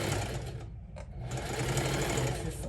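A sewing machine hums and ticks rapidly as it stitches quilted fabric for a crossbody handbag, a brief stop breaking the close, continuous run.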